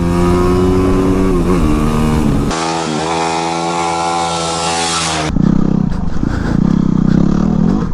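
Yamaha WR250R dirt bike engine running loud and close during a ride, with a steady droning tone that shifts pitch as the throttle changes, dropping briefly before surging again.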